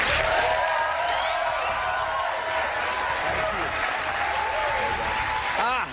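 A town hall audience applauds and cheers to welcome Julian Castro, a dense, loud, continuous wall of clapping with whoops rising over it for the whole stretch.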